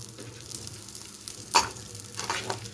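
Small onions sautéing lightly in a pan, a soft continuous sizzle with occasional stirring scrapes and clinks, fairly faint and close, with no talking.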